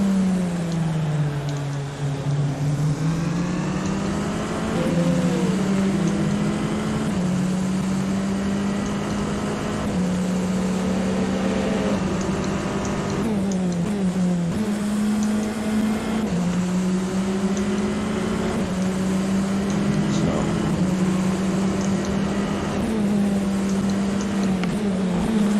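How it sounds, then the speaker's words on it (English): A Tatuus F3 race car engine in the rFactor2 sim racing game at Imola drones loudly and continuously, its pitch rising through each gear and dropping at the shifts, with no talking. "This F3 car's got kind of a bit of a throaty sound to its engine."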